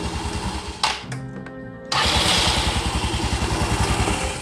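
A Yamaha Mio scooter engine turns over on its electric starter, a rapid mechanical chugging broken by brief revving bursts before it catches and runs at a steady, close, pulsing idle.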